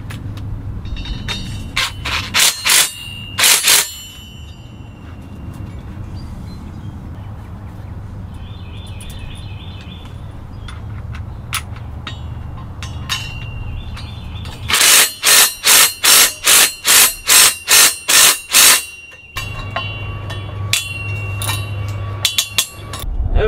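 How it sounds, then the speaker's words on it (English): A ratchet and socket tighten concrete anchor bolts for vinyl porch railing, giving a short run of loud clicks early on and a longer burst of about a dozen evenly spaced clicks later. Quiet background fills the gaps. "I found I had to take over with a ratchet and a socket"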